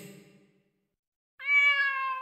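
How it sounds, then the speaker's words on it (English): A cat meows in the Demon Slayer: Kimetsu no Yaiba Hinokami Chronicles video game, a single clear, loud drawn-out meow following a brief stretch of low background sound and silence. "a cat!"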